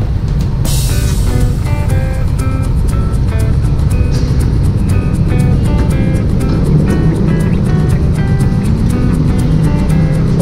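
Continuous motor traffic, loud and dense, rumbles near a mall in the Philippines. Tonal whines and engine drones overlap throughout with no break.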